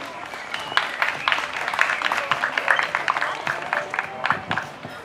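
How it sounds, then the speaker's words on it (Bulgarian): Audience applause at an evening media awards gala, the 7th edition of the media Oscars, greeting co-organizer Patricia Kirilova: dense, steady clapping from a crowd running throughout, fairly loud and close. "Аплодисменти за Патриция."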